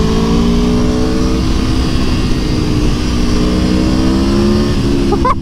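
Aprilia Tuono V4 1100 motorcycle engine revving loudly and close, a continuous roaring drone with rising and falling pitch sweeps while riding, with no speech over it.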